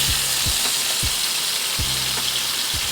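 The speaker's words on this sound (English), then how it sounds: "the key here, guys, is to get a beautiful sear, nice dark color." Ground beef for crispy tacos sears in a hot pan with a loud, dense sizzle, broken by several short low thumps as the meat is moved or pressed, and no voices.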